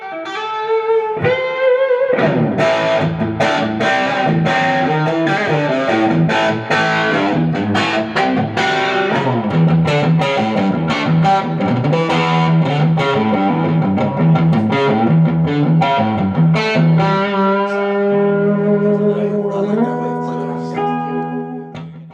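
Loud, heavily distorted electric guitar, a Greeny replica Gibson-spec guitar, playing a fast riff with chords and single notes, sustained and dense throughout, ending on ringing held notes.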